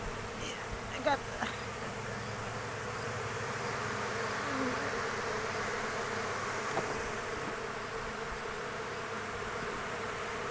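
Honeybees buzz steadily throughout a hive inspection, a faint continuous drone with a few brief knocks and a short spoken phrase near the start.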